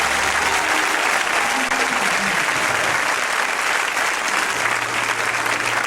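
A crowd at a French-language motivational gathering applauds and cheers, a dense, loud, steady roar of clapping that runs without pause throughout.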